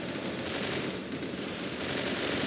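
Rapid, dense gunfire crackles continuously for a couple of seconds, a loud automatic burst with no talk.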